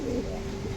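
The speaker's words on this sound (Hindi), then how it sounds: "ये हमारी चौथी जोड़ी है जो कि सहारनपुरी कबूतर है" A pair of Saharanpuri pigeons, male and female, coo close by, a soft low rolling call filling the short moment with no talk over it.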